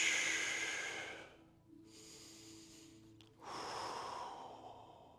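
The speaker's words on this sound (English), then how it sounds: "Inhale on the way down." Deep breaths during a glute bridge exercise, a long exhale followed by a soft inhale and another strong breath, close and airy with no talking.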